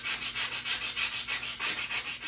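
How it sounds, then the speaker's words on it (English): Steady back-and-forth hand sanding of scratch-built classic car kick panels, a close, rhythmic rasping of roughly ten strokes in quick succession with no voices. "I'm sanding away at these guys, and when we're done, we'll vinyl wrap them."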